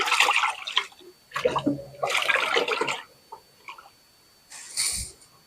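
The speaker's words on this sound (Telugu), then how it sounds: "ఈ వాటర్ అంతా బాగా మిక్స్ చేసేస్తున్నాం" Water sloshes and swirls in bursts as it is stirred by hand for watering a plant, close and fairly loud, with brief pauses between churning spells.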